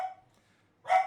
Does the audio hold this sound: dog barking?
yes